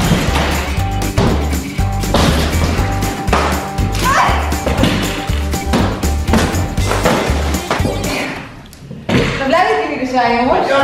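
Repeated loud smashing and banging blows ring out during a home demolition, coming in irregular bursts with people talking and exclaiming throughout.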